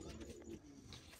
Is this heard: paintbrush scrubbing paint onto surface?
no